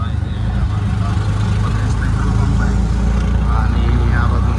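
An auto-rickshaw's engine drones steadily from inside the cabin during a city ride, a loud low rumble with passing road noise layered on top.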